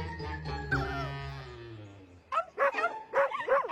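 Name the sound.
small dogs barking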